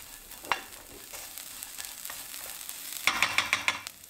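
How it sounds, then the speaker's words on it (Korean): Anchovies with finely chopped cheongyang chili peppers stir-fried in a pan, a soft steady sizzle broken by a sharp scrape at first and a quick run of clinking spatula strokes near the end. "잘게 썬 청양고추 넣고 볶아주세요."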